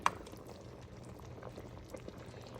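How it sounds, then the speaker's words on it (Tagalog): Pork rib nilaga soup with radish simmering in a pot, a soft, steady bubbling and burbling close by with faint irregular pops, no voices. "nagluto tayo ng nilagang buto-buto"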